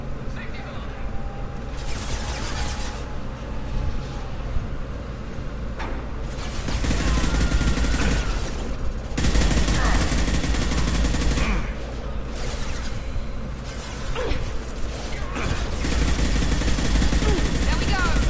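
Rapid gunfire rattles through a video game shootout in dense, overlapping bursts beside machinery noise. It keeps up over the whole stretch with spoken voices mixed in.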